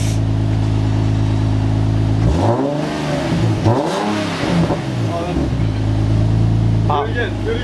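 A loud Infiniti G37 fitted with a fresh exhaust revs twice in quick succession, each rise and drop sharp and close, with small pops after, and excited voices talking over the idle.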